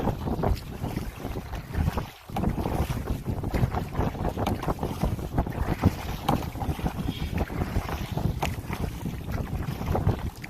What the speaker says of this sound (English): These 30-kilometer-an-hour gusts are going to be keeping up until 9 o'clock tonight